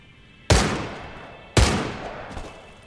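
Two sharp, loud Gewehr rifle shots about a second apart in the video game Medal of Honor Above and Beyond, each with a booming report that tails off into a reverberant decay.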